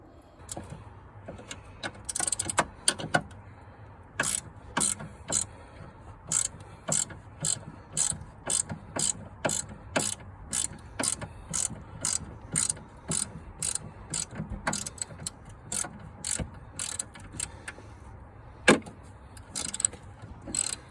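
A ratchet wrench undoing nuts under the seat base of a Fiat Ducato van, loud close rapid clicking strokes in steady bursts, repeated throughout with brief pauses, no talking.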